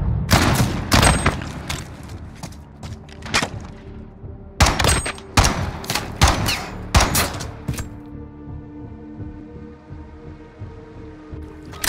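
Gunfire in Call of Duty: Modern Warfare: loud, close clusters of rapid shots in irregular bursts with short pauses, trailing into lighter ambient combat noise toward the end.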